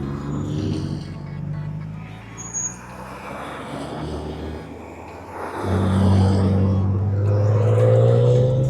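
A Subaru race car at a slalom event, its engine droning nearby and then rising into a louder, harder acceleration partway through, the revving tone holding strong to the end.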